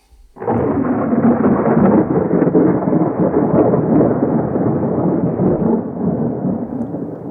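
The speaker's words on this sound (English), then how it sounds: "There was a great storm" A thunderstorm sound effect bursts in suddenly, then becomes a loud, sustained roll of rumbling thunder over rain that fades slightly toward the end, with no voices over it.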